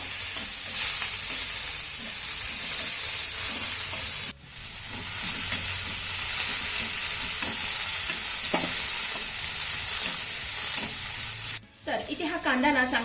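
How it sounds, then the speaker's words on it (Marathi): Sliced onion frying in an iron pan until golden, a steady hiss running throughout with occasional scraping stirs, briefly cut off twice. "आता हा कांदा ना चांगला सोनेरी रंगावरती आपण परतून घेऊया"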